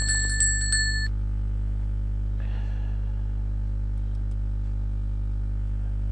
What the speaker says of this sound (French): activer la cloche de notification